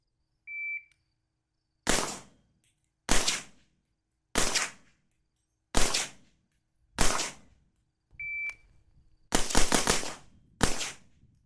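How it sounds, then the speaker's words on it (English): Suppressed Stag 3-gun direct impingement AR-15 rifle with a fixed gas block firing about nine sharp shots, mostly spaced about a second apart, with two quicker shots near the end and faint electronic beeps before the first and late shots. "throwing a suppressor on a direct impingement AR-15 like this Stag 3-gun that does not have an adjustable gas block."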